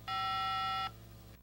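A single steady electronic beep from a 1994 Motorola cell phone keypad as Function 5 is pressed, lasting just under a second, clear and close, followed by faint hum.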